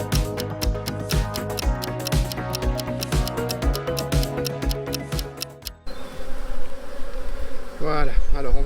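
A honeybee swarm newly housed in a mini plus hive hums in a dense, loud, continuous drone, with sharp clicks and frame handling at first, then a steadier buzz with individual bees passing close.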